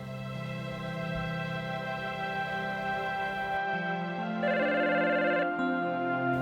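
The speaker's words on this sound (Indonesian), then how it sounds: "Telepon." An electronic phone ringtone chimes in steady, bright tonal bursts over a low hum, growing louder and more insistent toward the end.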